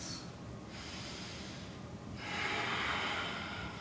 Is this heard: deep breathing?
yes